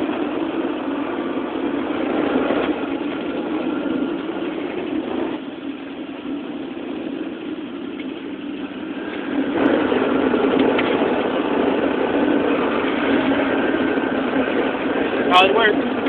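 A trail groomer's engine idles steadily at close range in a cab on a snow trail, a continuous low rumble that swells louder partway through as work continues behind; someone talks over it.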